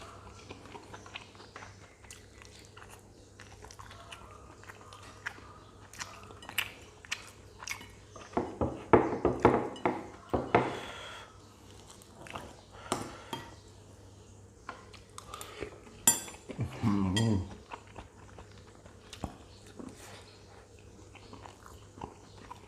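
Close, wet chewing and biting of steamed egg with a ball of sticky rice, in irregular bursts with small clicks and squishes, over quiet room tone and no talk.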